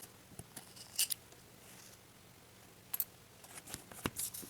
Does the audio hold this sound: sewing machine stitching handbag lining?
no